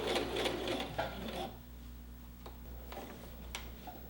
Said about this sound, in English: I'm going to do another back stitch.